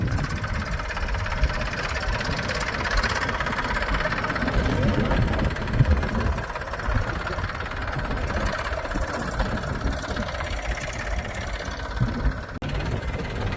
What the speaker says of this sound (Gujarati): આ છે જીપીએસ સિસ્ટમ વાળું ટ્રેક્ટર